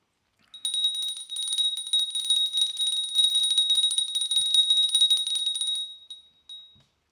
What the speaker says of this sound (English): I really like the bell clearing.